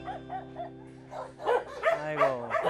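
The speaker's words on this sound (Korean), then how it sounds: "다른 강아지들이 짖으니까" Several dogs bark and yip at an animal shelter, a string of short, fairly close barks rising in intensity over a steady low hum, with overlapping calls toward the end.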